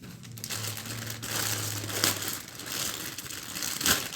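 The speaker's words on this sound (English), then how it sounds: "Oh, this one's got bubble wrap and a plastic bag." Bubble wrap and a plastic bag crinkle and crunch loudly up close while a Pokémon package is unboxed, continuous rustling with a few sharper crackles.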